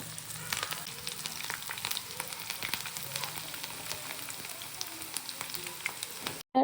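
Marinated prawn pakodi deep fries in a pan of hot oil, a continuous dense crackling sizzle with fine popping bursts, close and steady, ending in a brief sharp knock.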